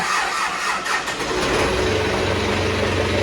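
An engine cranks and catches, then settles into a steady, close, mid-pitched idle that runs on alone to the end.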